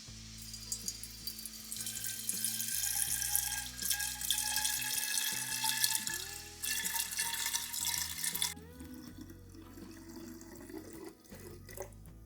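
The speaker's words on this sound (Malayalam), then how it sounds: "അപ്പോൾ നമുക്ക് ബോട്ടിലേക്ക് ഒഴിച്ചു മാറ്റാം" Homemade carrot wine poured from a container into a bottle, a steady liquid trickle and splash running continuously for about eight seconds before thinning out near the end.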